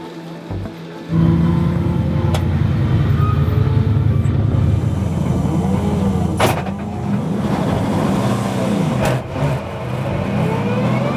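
GT4 European Series race cars roll up toward the timing line at the start, a dense, loud, sustained engine roar from several cars blending together for around eleven seconds.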